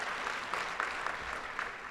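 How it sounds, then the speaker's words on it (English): Guests at an environmental awards dinner in Oklahoma applaud, a brief, fairly soft and distant wash of clapping from the room, steady and without speech. "Let's give them a round of applause."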